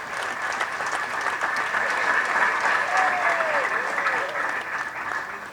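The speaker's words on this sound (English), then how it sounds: "He deserves a big clap." Delegates give Dr. Chiza steady, dense applause throughout, with a few voices calling out over the clapping.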